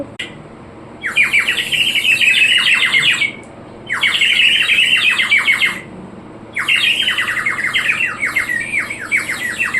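A toy bird whistle is blown in three bursts, each a bright, warbling run of rapid chirps separated by short pauses, close and fairly loud over a quiet background.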